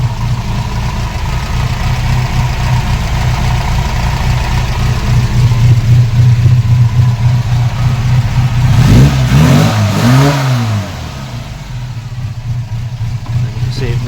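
A classic Mini A-series engine with an electronic A+ distributor idles loudly nearby, then revs smoothly up and down a couple of times before settling back to a lower idle.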